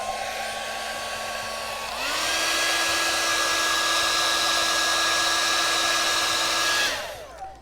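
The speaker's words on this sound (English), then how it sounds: "I've got a blow dryer." A hair dryer blows steadily, its pitch rising as it switches to a higher setting, then running loud and even before cutting off.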